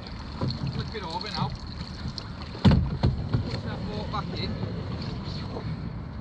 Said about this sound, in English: Push that boat back in.